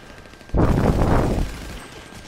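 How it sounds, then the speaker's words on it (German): A single short, loud burst of gunfire from enemies below in GTA V Online rises sharply and dies away within about a second, with quiet before and after. "Die schießen von irgendwo unten."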